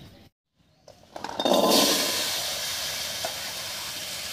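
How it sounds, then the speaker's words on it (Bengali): Boiled potatoes drop into a hot wok on a clay stove: after a moment of near silence comes a sudden loud hissing sizzle that settles into a steady frying hiss. "উনুন জ্বালিয়ে কড়াই বসিয়ে দিয়েছি। এবারে আলুগুলো কড়াইতে দেব।"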